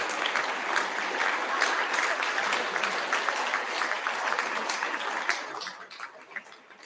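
Sustained applause from a school assembly audience at a Year 12 and 13 prize giving, a steady dense clatter of many hands that carries on for several seconds before thinning out near the end.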